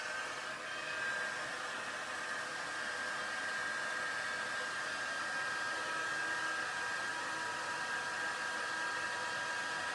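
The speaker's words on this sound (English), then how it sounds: "and I'm just moving my heat tool there" A heat tool melts embossing powder on a craft card, blowing with a constant, loud, airy hum for the full stretch and no break. No one speaks over it.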